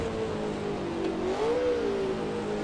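Engine of a 1960s GT race car in Assetto Corsa, heard up close and steady through a quick downshift, the revs blipping and swooping in pitch as the throttle matches each lower gear.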